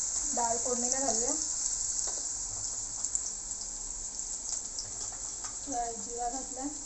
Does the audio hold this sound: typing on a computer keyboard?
no